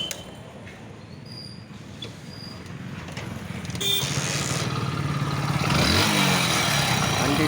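A motorcycle engine, just fitted with a new hose, runs at a low idle and then revs up louder and rougher partway through, staying close and continuous with no talking.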